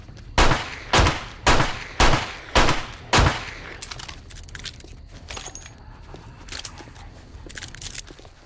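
Six evenly spaced pistol shots in the zombie survival game 7 Days to Die ring out loud and close about half a second apart, then quieter clicks and game noises follow.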